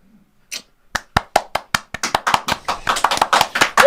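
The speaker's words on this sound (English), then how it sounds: "Clap for the NHS." Hand clapping for the NHS starts with a few sparse, sharp claps and quickly builds into a steady, faster rhythm that grows louder and denser toward the end, with no talking.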